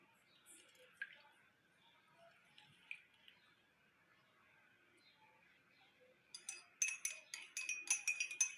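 A lemon slice is dropped into a cup of immunity-boosting tea and stirred, soft wet taps and faint clinks at first, then a quick run of brighter spoon clinks against the cup near the end.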